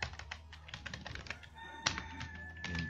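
Continuous typing on a computer keyboard while entering Excel VBA code, a steady patter of close key clicks with a few sharper strikes and no voice.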